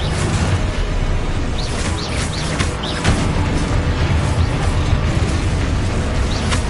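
Continuous booming blasts from explosion spells in Hogwarts Legacy on PS5, a loud dense wall of rumbling impacts and crackling bursts with no talking.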